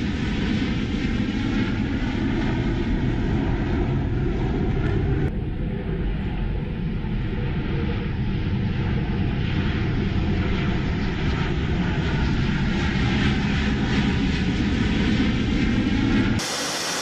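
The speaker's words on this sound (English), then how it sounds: "two U.S. Air Force B-1B Lancer bombers flying from Andersen Air Force Base on the U.S. Pacific Island territory of Guam, which were joined by two Japanese F-15 jet fighters" Military jets flying in formation, two US Air Force B-1B Lancer bombers from Andersen Air Force Base on Guam with two Japanese F-15 fighters, give a steady, loud, broadband engine roar and hiss that holds throughout with no voices.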